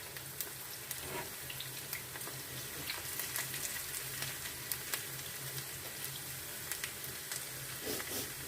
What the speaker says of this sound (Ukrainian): помішуємо, щоб у нас цибулька не згоріла, але добре підрумянилася